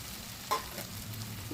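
Mushrooms drop into hot oil with a spice paste for mushroom bhaji, giving a brief soft sizzle and a clink near the middle. It stays fairly quiet, with no talking.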